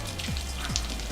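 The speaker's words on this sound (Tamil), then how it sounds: "என்ன மழை சத்தம் கேட்குது?" Steady rain falling and pattering on surfaces, close and continuous with scattered drops, no talking over it.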